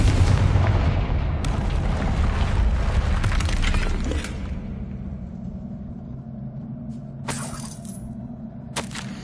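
A Confringo fire spell bursts against a barrier in the Hogwarts Legacy video game, a loud booming blast with shattering debris that rumbles for several seconds before fading, followed by two sharper crackling impacts near the end.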